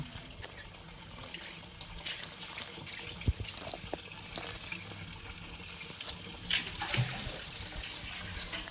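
Water runs and trickles steadily while a freshly dug native yam is rinsed outdoors, with small splashes and handling knocks over the constant flow; no talking.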